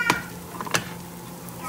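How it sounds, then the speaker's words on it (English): Flour-coated steak browns in a pan with onions and peppers, giving a soft sizzle broken by a few quick scraping stirs, close and brief, with no talking. "now you brown it in the pan with the onions and pepper."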